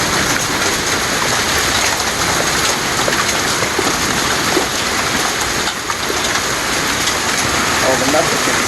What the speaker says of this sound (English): it is hailing its balls off